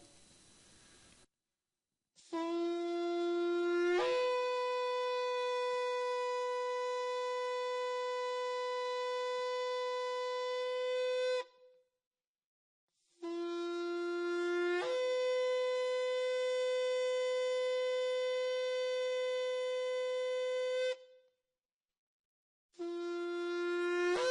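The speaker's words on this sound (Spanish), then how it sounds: "Suena el shofar." A shofar is blown during a church sermon in three long sustained blasts. Each opens with a short lower note and then jumps to a steady, bright, horn-like tone, with brief silences between blasts.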